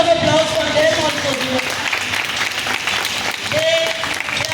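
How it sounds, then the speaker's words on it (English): An audience at a school felicitation ceremony for Class X toppers claps loudly and steadily throughout, with a voice speaking over the applause. "So a huge round of applause for them also."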